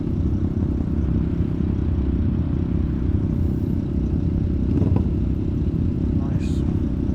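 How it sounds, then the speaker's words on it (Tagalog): Triumph Trident 660 motorcycles ride past as a steady, loud engine drone fills the clip, with the pass swelling slightly near the middle over continuous road noise. "Gaganda ng motor nila, oh. Naka Trident 660."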